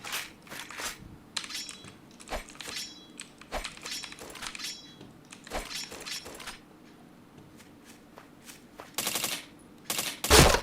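Gunfire from the PointBlank shooter game cracks in short bursts and single shots, fairly faint and spread irregularly across the stretch, with a louder burst near the end.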